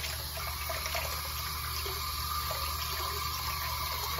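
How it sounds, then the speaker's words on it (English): Water runs from a tap as soap is rinsed out of a small badger shaving brush. The flow is a faint, continuous splashing with no talk. "let's get the soap out of this little brush. I ought to rinse out pretty easy here"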